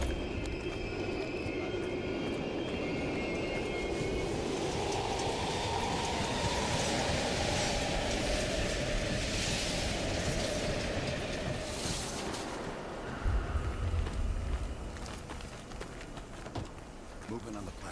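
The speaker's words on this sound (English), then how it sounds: "We can use a train to slip past." A train rumbles past in the video game Call of Duty: Black Ops Cold War, with a loud, sustained mechanical roar and rattling, the noise steady before easing slightly near the end.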